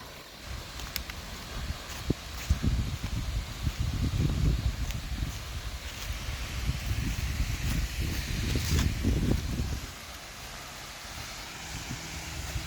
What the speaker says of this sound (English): The waterfall's loud.